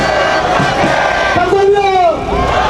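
Crowd at a street march in Itaewon, Seoul, chanting a slogan together, loud massed voices rising and falling in rhythmic shouts close by.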